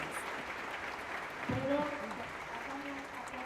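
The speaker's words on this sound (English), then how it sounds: "thank you for the applause" Audience applause at a conference plenary session forms a steady wash of clapping throughout, with a voice speaking over it partway through.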